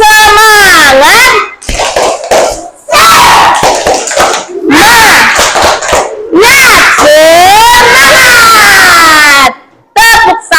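A group of people in a teacher coaching session perform the tepuk semangat clap chant, a loud, close run of voices shouting the chant in unison, mixed with claps, then a brief pause and a final call.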